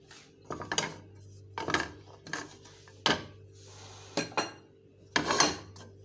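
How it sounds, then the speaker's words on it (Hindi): A spoon works a chicken and vegetable mixture around a bowl, giving repeated scraping, clinking strokes in an uneven rhythm, close and moderately loud, with no talking. "और अब हम ये चिकन और सब्जियों का जो मिक्सचर है इसको इसमें मिक्स करेंगे।"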